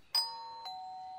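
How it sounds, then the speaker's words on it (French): A front-door doorbell gives a clear two-tone ding-dong, close and ringing, each chime sustaining before fading in a quiet room. "La sonnette de l'entrée retentit."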